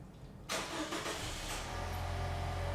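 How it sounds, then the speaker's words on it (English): A car started with its factory OEM remote start: quiet at first, then the engine catches abruptly and settles into a steady, close idle hum. "Nice, car starts just fine."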